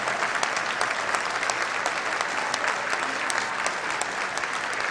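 Football crowd at a Chesterfield versus Exeter City match, singing and clapping together in the stadium: a dense, steady roar of many voices with rhythmic hand claps cutting through, moderately loud and continuous throughout.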